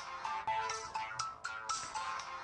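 A mobile phone ringtone plays for an incoming call, a repeating melodic tone with regular bursts, clear and alone without speech.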